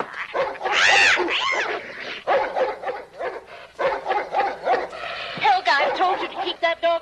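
Small dog yapping and whimpering in excited high-pitched bursts close by, mixed with a person talking over the barks in a 1969 comedy film scene.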